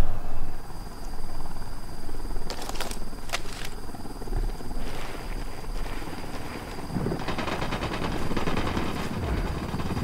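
Helicopter in the video game Ghost Recon Wildlands, a continuous rotor drone throughout with bursts of gunfire cutting in, loud and close amid game combat.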